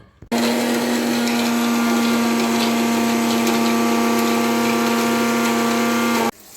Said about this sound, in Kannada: ಸೊ ಇವನ್ನು ನಾವು ಮಸಾಲೆಯಾಗಿ ಈಗ ಮಿಕ್ಸಿಲಿ ಹಾಕ್ಕೊಳ್ತೀವಿ ಫ್ರೆಂಡ್ಸ್